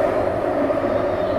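A subway train runs steadily on a late-night metro, a loud, even rumble with a droning mid-range hum and no voices over it.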